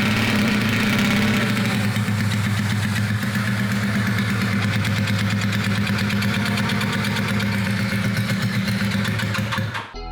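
A rebuilt Honda CB250 motorcycle engine running steadily after starting, a loud close mechanical thrum with a fast regular pulse that holds for about ten seconds before cutting off.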